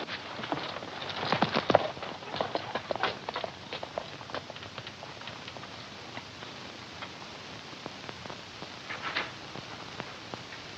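Irregular clopping of hooves, moderately quiet and somewhat distant, scattered ticks and knocks over a faint background hiss.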